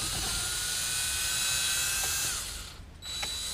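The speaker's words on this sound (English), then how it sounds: "I'm just going to use my my drill here." A power drill removing screws from a 2005 Nissan Sentra's air source control knob whirs steadily at close range, then cuts out briefly before starting up again, with faint clicks between.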